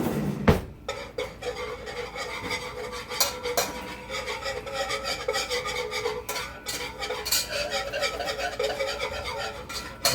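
A whisk scrapes and rattles rapidly in a pot of flour for gravy, a continuous close metallic stirring with a sharp knock near the start and another midway.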